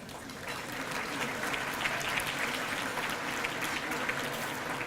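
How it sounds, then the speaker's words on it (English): Audience applause at a graduation gala opening ceremony, a broad, sustained ovation from a large room, moderately distant and steady, with scattered voices beneath. "So please give yourselves a round of applause."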